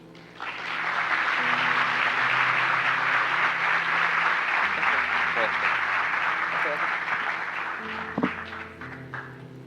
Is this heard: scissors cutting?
no